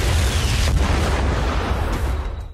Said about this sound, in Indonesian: Dan ketika bomnya meledak, John CS pun bebas dari penyakit budek.